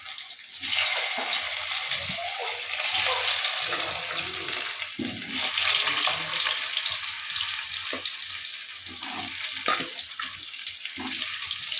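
Small peeled potatoes fry in a pan with a loud, steady sizzle that hisses on unbroken for several seconds, rising and easing slightly but never stopping.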